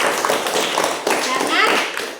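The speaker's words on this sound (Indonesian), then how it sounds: "Tepuk tangan." Students in a classroom applaud after a group presentation, a short burst of close, busy clapping with a few louder taps, continuous for about two seconds.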